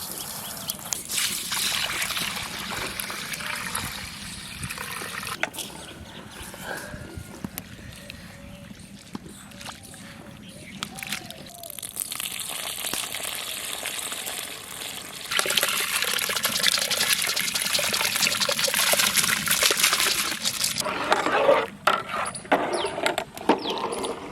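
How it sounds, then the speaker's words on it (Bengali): Masoor lentils being rinsed by hand in water, with steady trickling and sloshing that swells louder in the second half, close and continuous with no talk. "ডালটাকে আমরা ভালো করে ধুয়ে নেব"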